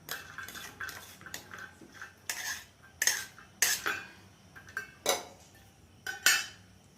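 Finished snake gourd bharta being scraped and poured from a pan, a series of sharp metallic spoon-on-pan clinks and scrapes in irregular bursts, close and fairly loud, with no speech.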